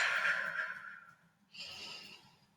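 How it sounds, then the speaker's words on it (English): Deep breathing during a gentle stretching exercise, one long breathy exhale fading out, then a softer second breath after a brief pause, close and alone. "Take a couple deep breaths"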